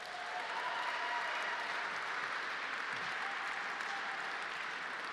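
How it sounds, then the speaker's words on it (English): An audience at an awards gala honoring Israel's intelligence agency breaks into sustained applause, a dense, steady wash of many hands clapping at full volume for the whole stretch. "how about a round of applause for Israel's remarkable intelligence agency?"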